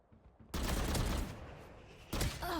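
Rapid automatic rifle fire from a Vandal in Valorant played on console bursts out loud and close, a sustained volley after a quiet start, then a second short burst near the end.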